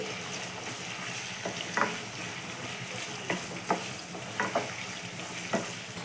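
Tomato frying together with chicken pieces in a pan, a steady close sizzle with occasional sharp clinks and scrapes of a stirring utensil, no voices.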